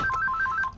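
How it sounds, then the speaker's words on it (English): A telephone rings at a car stereo and music shop, giving a short, clear electronic warble alone and at moderate volume. "I'll grab that phone, Mike."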